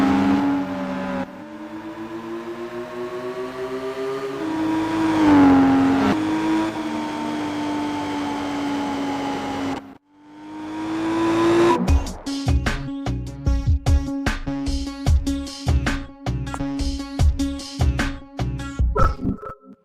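Race car engine in Gran Turismo PSP, a rising revving whine that climbs in pitch, drops out briefly, then returns with rapid clicking and stuttering bursts near the end, loud and close.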